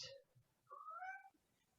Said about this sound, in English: Cat comes to visit.